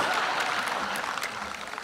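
Brief burst of audience applause at a comedy show, a dense steady wash of many hands clapping at moderate volume, with no voices clearly over it.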